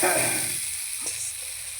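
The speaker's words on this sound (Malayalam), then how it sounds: "അറിയാത്തവർക്ക് വേണ്ടിയാണ് ഈ മത്തി പൊരിക്കുന്നത്" Steady crackling sizzle of sardines frying in hot oil in a pan, close and continuous, with a brief faint scrape partway through.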